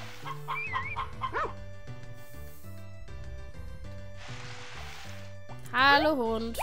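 Barking from a dog in the farming video game Harvest Moon, heard as short yips near the end over looping game music, with speech present.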